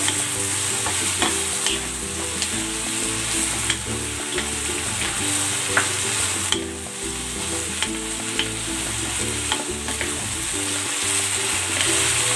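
Tofu in sweet chili sauce with ketchup and pepper stir-fried in a pan, with a steady loud sizzle and repeated scraping strokes of the spatula throughout, no voices.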